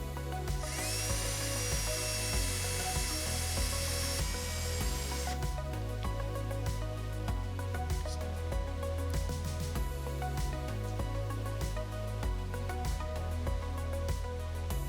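A power drill mixing epoxy resin whirs with a high, steady whine for several seconds, then gives way to rough, stuttering mechanical grinding and rattling.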